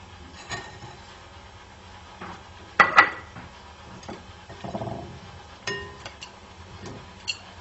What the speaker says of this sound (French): on va déjà commencer à mélanger le sucre avec le beurre